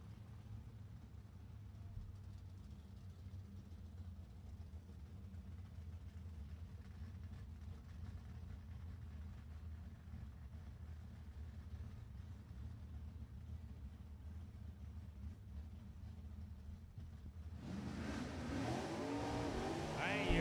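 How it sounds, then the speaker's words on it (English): Super Stock drag race cars idling in the staging lanes at an NHRA event, a low steady engine rumble heard from a distance, swelling louder near the end as another engine fires up and revs. "looks like the Super Stockers are firing up over there in the staging lanes"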